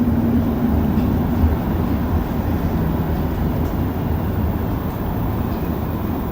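A Montreal metro train on the Green Line heard from inside the car on a quiet night, a steady loud low rumble and rolling roar with a faint high whine, continuous and unbroken, no voices.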